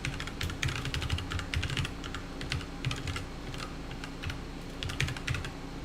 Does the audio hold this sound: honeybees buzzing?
no